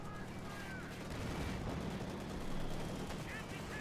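Distant, muffled battle gunfire and explosions from the video game Company of Heroes 2 rumble continuously at low level, with faint game voices underneath.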